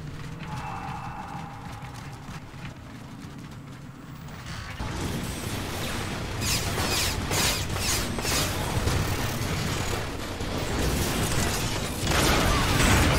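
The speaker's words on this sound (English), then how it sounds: "The battery casing is opening!" A battery casing opens in the Transformers: War for Cybertron video game, with mechanical clanks and ratcheting that swell into a louder, busier grinding mechanism after a quieter start.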